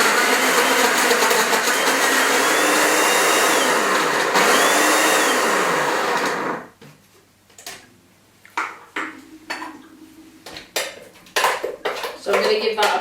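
An electric blender whirs loudly for several seconds, mixing strawberries and orange juice into a smoothie, then cuts off, followed by clinks and knocks of the jug and lid.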